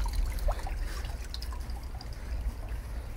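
Water trickles and drips in a garden water feature, a soft continuous burble with a few droplet splashes over low outdoor background rumble.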